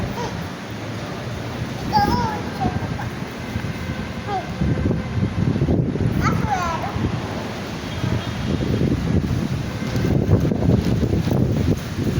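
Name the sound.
strong wind blowing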